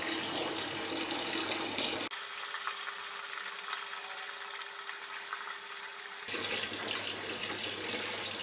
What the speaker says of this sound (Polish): Pompa jeszcze wypompowuje to, co jest w komorze.